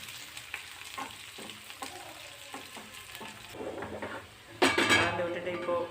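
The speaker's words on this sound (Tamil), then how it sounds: "அப்படியே நல்லா கலந்து விடுங்க." Fried anchovies and curry leaves sputter in hot oil as a spoon scrapes and clinks against the pan in short strokes, with a loud burst of sizzling near the end.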